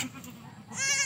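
A baby goat lets out a short, close bleat near the end, after a quiet stretch of faint background noise.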